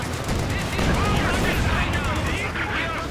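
Rapid machine-gun fire from a strafing run in a video game, a dense, continuous roar of shots that fills the whole moment at steady loudness.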